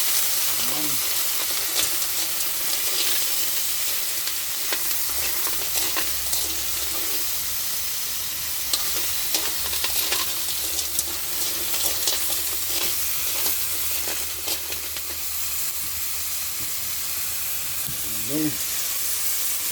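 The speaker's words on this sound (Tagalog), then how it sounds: "Ginisa natin." Crabs and seashells sautéing in a pan, a continuous close sizzle and hiss with occasional stirring clatters and scrapes, steady throughout with faint background noise.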